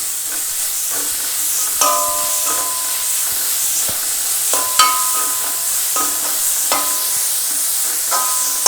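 Beans, carrot and cabbage with onion frying in a pan for chicken spring rolls, a constant loud hiss and sizzle punctuated by clinking, scraping stirs every second or so.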